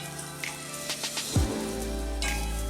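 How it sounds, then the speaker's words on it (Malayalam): Dates fry in ghee in a pan with a soft, crackling sizzle, broken by a few light clinks and a brief sweeping scrape partway through. "ഇനി നമുക്ക് ഇതൊന്ന് നന്നായിട്ട് നെയ്യിലൊന്ന് മൂപ്പിച്ച് എടുക്കാം"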